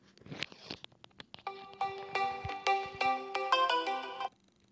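A phone ringtone plays a bright electronic melody of repeated tones, preceded by brief crinkling handling noises, then stops.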